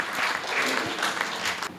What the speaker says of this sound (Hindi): जरा दोनों हाथ उठाकर तालियां बजाकर अगवानी करें